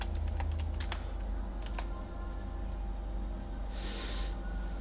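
Rapid, light keystrokes on a computer keyboard as a project name is entered, a quick burst of clicks followed by a few scattered taps over a steady low hum.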